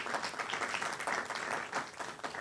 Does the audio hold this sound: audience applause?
yes